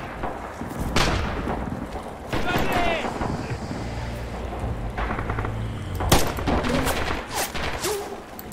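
Artillery fire in the World War II shooter Red Orchestra 2, with heavy blasts and scattered gunfire rolling through the scene while someone talks over it.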